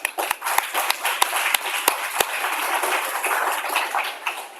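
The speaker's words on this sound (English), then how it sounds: "I think that deserves a round of applause" Audience applause at the Wits Mathematics Competition awards ceremony, a dense patter of many hands clapping steadily for several seconds, with a few sharper, louder claps standing out near the front.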